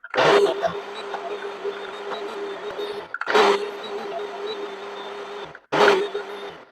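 A blender whirs steadily as it grinds peanuts into peanut butter, running in three close, loud bursts, each opening with a sharp surge of motor noise and separated by brief stops.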